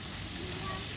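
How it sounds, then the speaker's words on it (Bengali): Shrimp frying in oil with salt and turmeric, giving a soft, steady sizzle heard briefly and faintly. "একটু লবণ আর হলুদ দিয়ে চিংড়ি মাছটা ভেজে নেব।"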